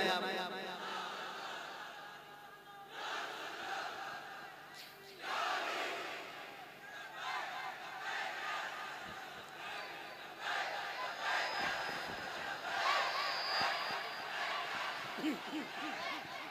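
A crowd shouts and chants a slogan together in rhythmic bursts, loud and reverberant, with cheering swells rising and falling throughout.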